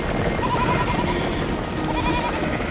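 A herd of goats bleats in a field, with wavering cries rising over a constant, busy background noise. The calls are moderately close, and no one speaks.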